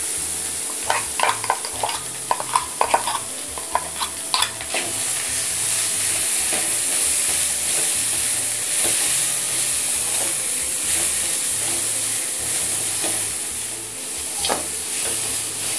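Beetroot with coconut stir-fried for poriyal, a bright continuous sizzle with a burst of quick spatula scrapes and taps at the start, then mostly steady frying hiss with an occasional stroke.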